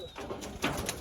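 Pet pigeons in a home loft coo softly at close range, a few low, throaty murmurs over a quiet room.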